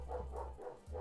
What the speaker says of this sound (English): So sorry for the dog voices in my microphone.